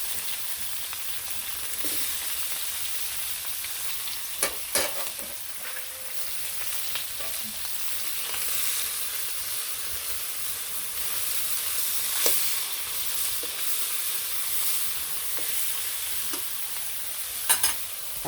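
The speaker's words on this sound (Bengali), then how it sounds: "রুই মাছের তেলের মধ্যে সরসরি মাছটাও ভেজে নিই" Snakehead (shol) fish frying in rohu fish oil in a home kitchen, a continuous soft sizzle with occasional sharp pops and a few stirring scrapes, close-up and steady over a long stretch, no voices.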